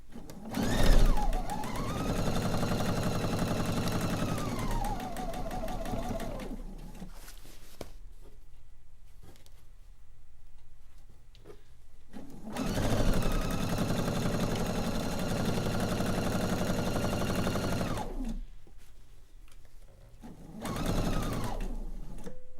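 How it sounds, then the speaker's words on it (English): Sewing machine stitching quilt blocks together in a basement, running in two long steady bursts with a pause of near silence between them, then starting again briefly near the end. "ran down to the basement so I could sew some blocks together"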